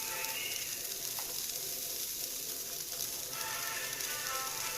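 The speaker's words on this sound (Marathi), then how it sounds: "आता कांदा आपला हलका परतत येत आहे" Onion, garlic and ginger sizzle steadily in a pan for a Marathi-style matar batata rassa, a continuous close frying hiss with faint stirring and no talk.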